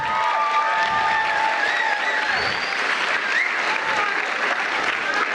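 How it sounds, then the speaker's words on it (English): Sustained audience applause for award recipients at an eighth grade graduation ceremony, dense clapping with light cheering and a few whistles mixed into the crowd noise. "one more round of applause for all our award recipients"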